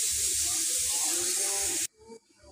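A mixer grinder whirs loudly as it grinds coconut chutney with water in its jar, a harsh steady buzzing hiss up close that cuts off abruptly, leaving a few faint clatters.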